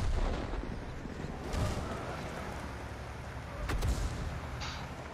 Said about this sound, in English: Is that artillery?